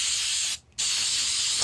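Close aerosol spray of Flex Seal rubber sealant along the edge seams of an Explorer 200 boat, hissing continuously, with a brief break in the middle before the spray picks up again.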